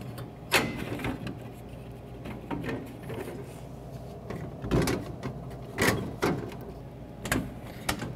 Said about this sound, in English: Now it's time to put the front trim in over the delivery port.